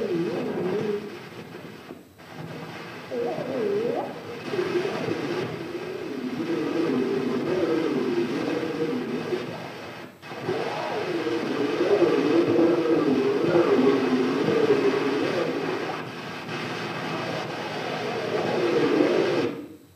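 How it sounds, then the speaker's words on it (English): An 1878 phonautogram recording from New York, thought to capture trains passing quickly, heard as a muffled, wavering mechanical rumble with crackly noise and a few brief dropouts. "what we believe is on this phonautogram is the sound of three"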